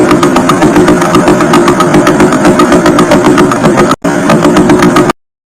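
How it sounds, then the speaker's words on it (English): The Vela Pulsar signal rendered as sound, a dense, loud, rapid train of regular rhythmic pulses over a steady hum, broken by one brief dropout before cutting to silence. "Vela Pulsar."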